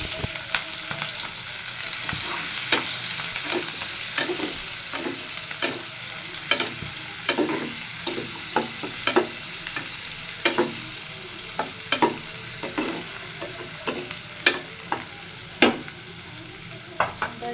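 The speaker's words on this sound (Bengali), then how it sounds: "তেলের মধ্যে দিয়ে দিব জিরে পেঁয়াজ" Cumin seeds and onion fry in hot oil while a spoon stirs and scrapes the pan in regular clicks, over a steady close sizzle that keeps up throughout with no talking.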